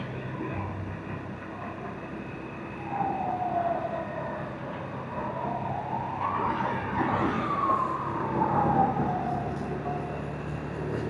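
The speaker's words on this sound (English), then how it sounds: "That's an ambulance." A wailing ambulance siren rises and falls through a dark road tunnel in Yunnan, China, partly masked by a continuous roar of passing traffic.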